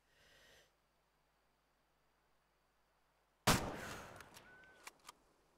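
A single loud rifle shot fired at an elk in the hunting game Way of the Hunter cracks out after near silence, followed by a fading echo and a couple of faint clicks.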